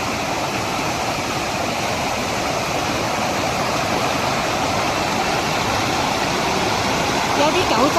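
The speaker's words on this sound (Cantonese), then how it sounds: "呢個位玉龍雪山下低呢個瀑布都幾澎湃㗎" A powerful waterfall below Jade Dragon Snow Mountain in Yunnan roars as a broad, steady rush of falling water, loud and unbroken throughout, with a voice speaking over it.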